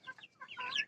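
Tiger chickens about 46 days old and near one kilogram give a quick burst of soft, chattering clucks, faint and close, with no talk over them.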